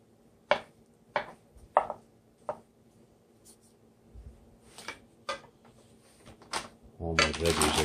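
A knife slices cooked shrimp in half on a cutting board, giving a few sharp, separate chops close by at an uneven pace. A louder burst of clatter follows at the end.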